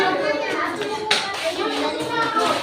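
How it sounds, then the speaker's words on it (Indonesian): Schoolchildren clap for a classmate group after a class presentation, a close, busy burst of many hands clapping with children's voices chattering throughout. "Tepuk tangan untuk kelompok ini."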